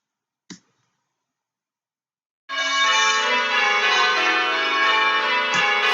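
Church bells rung in call changes: after a single sharp click and a pause, one bell strikes and rings on with a steady, resonant hum, with no voices.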